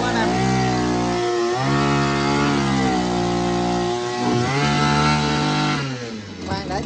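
Engine-driven water pump running close by, a loud continuous motor drone that shifts pitch several times as it revs up and settles, dropping slightly near the end.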